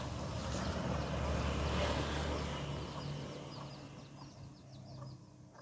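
Chickens cluck in a yard where a rooster stands near baby chicks. The soft clucks and faint chick peeps are heard over a steady hum of outdoor background noise, with nobody speaking.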